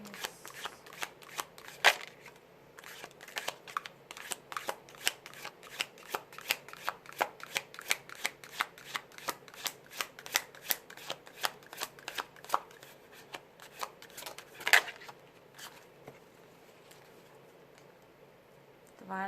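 Tarot cards are shuffled by hand in a long run of quick, crisp riffling flicks, close and fairly quiet, with a few louder snaps and a pause near the end.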